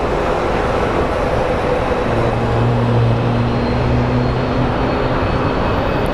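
Passenger airliner at Phoenix Sky Harbor airport, a steady broad roar with a low droning hum rising slightly midway, heard from a distance and continuous throughout.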